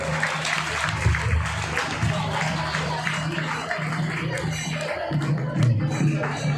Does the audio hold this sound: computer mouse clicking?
no